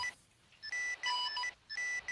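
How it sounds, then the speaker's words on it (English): Electronic beeps in the military video game ARMA 3: bright, steady tones in short repeated bursts separated by brief gaps, loud and alone. "Lots of beeping."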